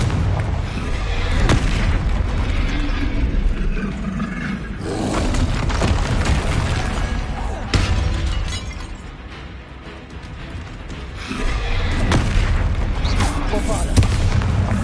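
Repeated booming blasts from the Confringo fire spell in Hogwarts Legacy on PS5, several heavy explosions rolling in waves with crackling debris across the stretch.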